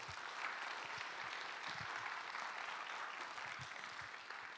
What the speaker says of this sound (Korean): 우리 서로에게 격려의 박수 한번.